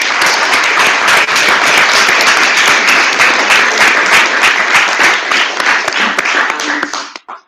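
Audience applause in a debate hall, a dense, steady wash of many hands clapping loudly throughout, then fading out at the very end.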